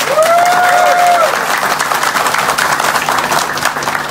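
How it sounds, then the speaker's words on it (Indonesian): An audience at an Indonesian seminar gives everyone a round of applause. The clapping is loud and sustained, and a brief whistle-like tone rises over it near the start. "Tepuk tangan buat semuanya."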